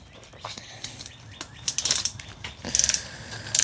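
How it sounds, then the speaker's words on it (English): Torque wrench ratcheting on the valve cover bolts of an NA Miata during a valve cover gasket replacement, with bursts of quick clicking that grow louder and denser toward the end, close by in a quiet workspace. "I'm gonna get ready and torque them it says 89 inch-pounds."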